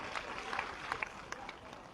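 Applause from a crowd honouring women at a government app launch event, a faint, brief patter of scattered clapping with a few sharper claps standing out.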